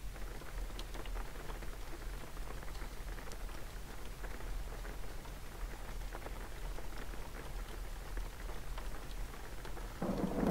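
Rain and thunder in the video game Jalopy, a dense steady patter of rain with low rolling thunder underneath, continuous and fairly loud throughout, no talking.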